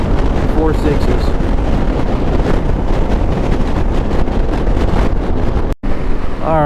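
Strong wind buffets the microphone during a ride along an open, treeless West Texas road, a constant loud roar with a few faint voices underneath.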